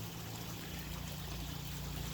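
Water trickles from the last section of a pond filter box waterfall in a pool-to-pond conversion, a soft, steady, continuous wash that stays faint throughout.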